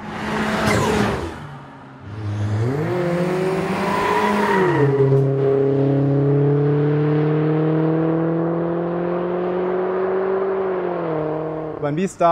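Volvo four-cylinder car engine revving up in rising and falling sweeps, then holding a loud, steady high-rpm drone close by before a final blip.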